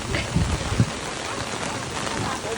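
Rain falls on Boracay Island as a steady broad hiss with a few soft low thumps near the start, moderately loud and continuous throughout.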